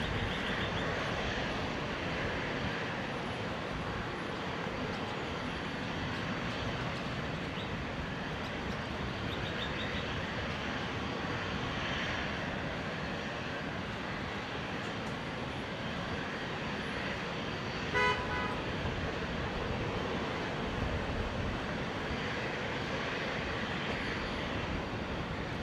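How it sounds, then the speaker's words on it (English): A Qantas Link Dash 8 Q400 turboprop taxis at Brisbane Airport after arriving on runway 19 right, giving a steady, moderately distant engine drone that holds evenly throughout with no talk. "The Dash 8 Q400 just arrived from Harvey Bay on the new runway 19 right."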